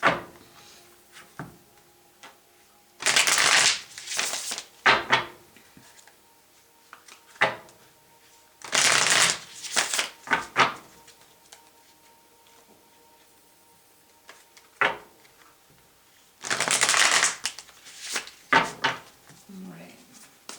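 Tarot cards being shuffled by hand in three separate bursts of crisp riffling, close and fairly loud, with quiet pauses and small handling knocks between them.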